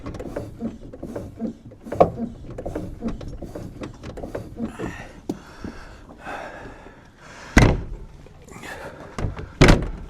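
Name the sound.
car door of Ford Zephyr Mk3 being shut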